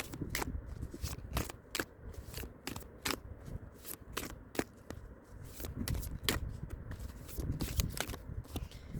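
Tarot cards are shuffled and drawn by hand, giving a close, quiet run of rapid crisp riffling snaps and soft card slaps that continues throughout.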